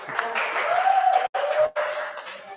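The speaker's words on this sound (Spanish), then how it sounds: "Un aplauso, por favor." Audience applause greeting the first speaker at a RubyMX talk on Rails 7: a few seconds of steady clapping with brief dips, a whistle-like tone threading through, no speech.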